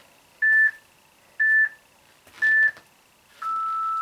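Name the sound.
workout timer 10-second warning beep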